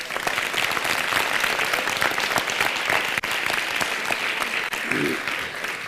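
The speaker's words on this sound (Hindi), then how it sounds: "तुमने उतनी ताली नहीं बजाई जितनी बजनी चाहिए थी।" A lecture audience claps loudly and steadily for the full stretch, a dense continuous burst of applause filling the hall with no talk over it.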